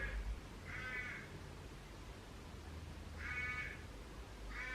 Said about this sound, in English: there's birds outside that are screaming